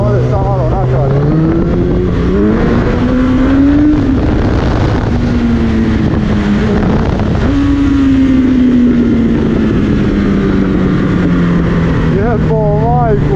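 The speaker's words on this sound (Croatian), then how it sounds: "Stvarno je brutalan motor, otkida bez ikakvih problema" A 2008 Yamaha XJR 1300 motorcycle accelerates hard, the loud engine note rising through the gears in steady climbs with wind buffeting the microphone, close and continuous throughout.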